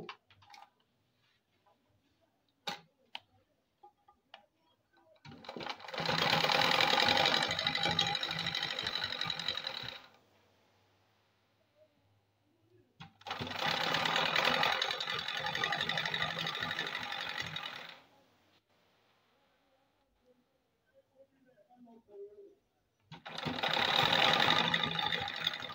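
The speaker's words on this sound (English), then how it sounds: "So now I want to put the band. I'm going to sew it just like so." A sewing machine stitches a band onto the fabric of a DIY turban lift in three steady bursts separated by quiet pauses. The whirring runs alone, with no talking.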